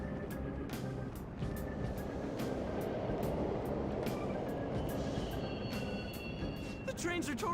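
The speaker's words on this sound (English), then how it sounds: "The trains are totally running!" Subway trains running in the video game Persona 5 Royal, a continuous rumbling rail roar at moderate loudness, with rhythmic clicks and a rising metallic squeal toward the end.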